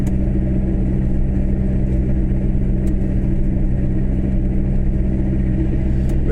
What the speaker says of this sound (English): We're now accelerating up past 45 miles per hour.